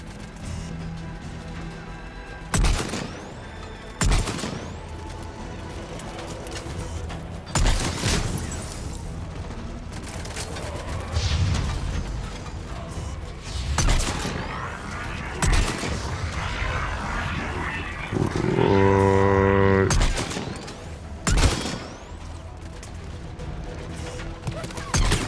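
Video game gunfire from Mass Effect 3: sharp bursts of shots and heavy booms come at irregular intervals over a busy combat soundscape, loud and close, with some talk mixed in.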